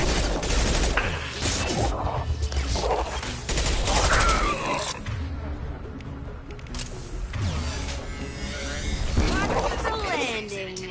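Rapid bursts of gunfire in the video game Mass Effect 2, crackling volleys that come in clusters over several seconds, with a voice talking over the shooting.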